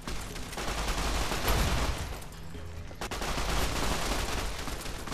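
Gunfire in Fallout: New Vegas during a fight alongside the Khans, a dense crackling stream of shots and impacts, loud and continuous with a brief lull midway, no talk.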